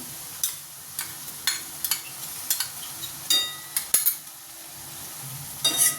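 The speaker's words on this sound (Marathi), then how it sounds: "मिक्स करून घेऊया आणि छान शिजवून घेऊया" Ginger garlic paste sizzles in butter and oil in a pan, with a soft steady frying hiss. A spoon stirs it in regular scraping clicks, close and moderately quiet.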